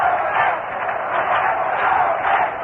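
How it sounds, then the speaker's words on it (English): Crowd at a 1965 Mets versus St. Louis Cardinals baseball game, heard over a narrow, tinny broadcast line: a continuous roaring murmur of stadium spectators that swells slightly in waves. "And listen to that crowd."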